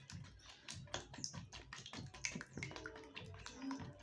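Duck eggs are beaten in a bowl, giving a quick run of light, rapid clicking and tapping strokes, close and faint, with no talk.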